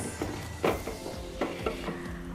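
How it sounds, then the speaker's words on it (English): A spoon stirs tomato sauce with onions and garlic in a pan, giving a few soft scraping strokes over a steady low sizzle. "So give this a good mix"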